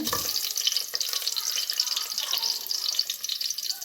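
Steady hiss and crackle of onions frying in hot oil in a home kitchen pan, a continuous soft sizzle at low level with no talking.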